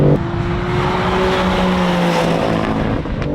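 A BMW M3 CS G80 engine revs hard under acceleration out of a corner, a loud, rising roar with climbing pitch and road noise, heard up close without talk.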